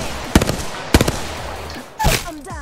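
Sharp, loud gunshots in the video game Apex Legends ring out as three separate cracks, each with a short echoing tail, the last followed by whooshing game effects.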